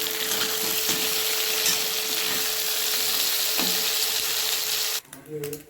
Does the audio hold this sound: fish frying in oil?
yes